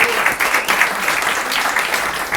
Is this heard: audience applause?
yes